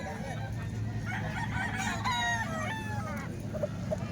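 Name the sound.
chickens and rooster for sale at a market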